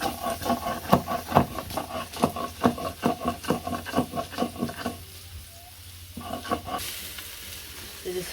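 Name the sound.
soybean chunks frying in oil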